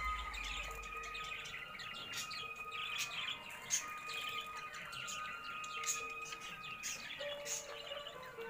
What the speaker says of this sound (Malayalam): കിളി ലവ് ബേർഡ്സ്